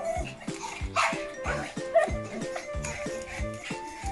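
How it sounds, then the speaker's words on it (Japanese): Several dogs bark, yip and whimper excitedly in a rapid, overlapping burst before mealtime, close and fairly loud, with no talk over them. "皆さんのとこのワンちゃんってこんな感じですか、こうご飯の前"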